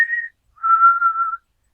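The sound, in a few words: whistling like in The Walking Dead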